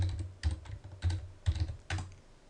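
Typing on a computer keyboard, about five distinct clusters of clicky keystrokes in an uneven rhythm, close and clear with no talking.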